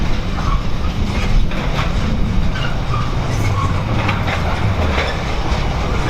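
Trains roll over the switch joints at a busy railway junction in Leamington, making a loud, steady rumble broken by repeated clickety-clack knocks and faint squeals.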